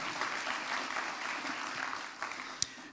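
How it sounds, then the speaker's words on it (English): Sustained applause from a community event audience at a college, dense and even throughout, with one sharp louder clap standing out near the end. "How about a big round of applause for everybody who played a part in that this year?"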